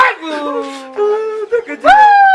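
A person imitates a howling dog, voicing drawn-out wavering howls and short yips, loud and close, in several bursts across a couple of seconds.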